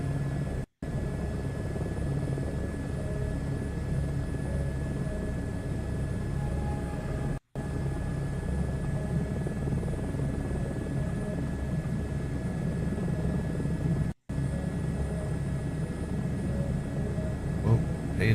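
Simulated helicopter in Microsoft Flight Simulator 2024, a steady rotor and turbine drone holding constant throughout, with brief sharp dropouts breaking the continuous hum.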